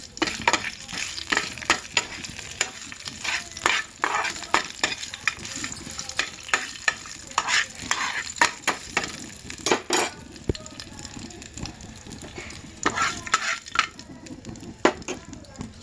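Blended coriander chutney stirred into a sizzling tempering in a pan, with a steady frying hiss under repeated sharp scrapes and clacks of a spoon against the pan, close and busy throughout.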